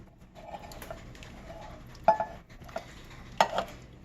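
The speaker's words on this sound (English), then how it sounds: "Give it a stir." Spoon stirring a pot of white turkey chili with cannellini beans, soft scraping swirls with a couple of sharper knocks against the pot, faint and close, with no talking.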